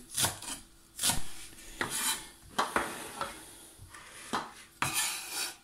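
Knife cutting bread for scrambled egg toast on a board, a series of sharp scraping strokes and knocks at irregular intervals, close and fairly quiet, with no talking.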